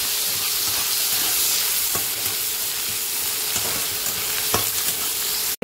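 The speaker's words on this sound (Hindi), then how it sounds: "अब इसमें हम प्याज को डाल देते हैं। अब प्याज होने तक भूनते हैं।" Onions fry in a pan for Bihari-style egg curry, giving a loud, dense, steady sizzle with faint stirring scrapes that carries unbroken through the whole stretch.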